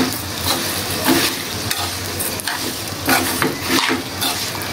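Vermicelli roasting in ghee for milk payasam, a steady close sizzle with soft periodic stirring scrapes in the pan, no voices.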